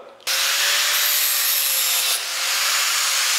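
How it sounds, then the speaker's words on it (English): Angle grinder smoothing welds on a metal tubing frame: a loud, steady close-up grinding whine that starts abruptly and runs continuously, with slight shifts in pitch as it presses into the metal. "The next step is just to take a grinder and smooth out all these welds"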